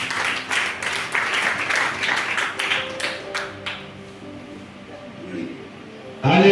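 A church congregation applauds during a service, dense clapping filling the first few seconds and then thinning out, with voices and tonal sounds carrying on over a quieter room.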